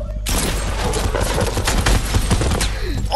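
Rapid submachine gun fire in a video game, a dense loud burst of shots lasting about three seconds after a short quiet start.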